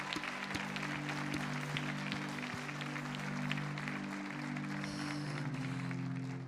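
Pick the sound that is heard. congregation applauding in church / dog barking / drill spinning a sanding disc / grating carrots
congregation applauding in church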